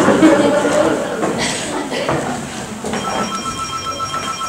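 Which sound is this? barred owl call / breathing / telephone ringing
telephone ringing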